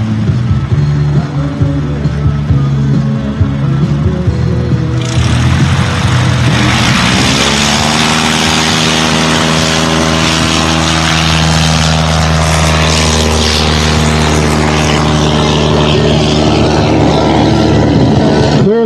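A Super Cub airplane's propeller engine drones loud and close on the takeoff line at a fly-in short field contest, then swells sharply into a full-throttle roar that holds steady.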